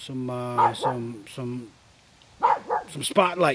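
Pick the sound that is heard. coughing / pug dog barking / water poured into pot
pug dog barking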